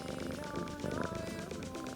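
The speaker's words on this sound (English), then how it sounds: "she's still purring" A Sphynx cat purrs softly and continuously in a short close-up burst, a low rhythmic rumble with no talk over it.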